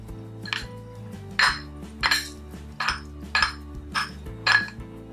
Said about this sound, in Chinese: 趁热搅拌均匀。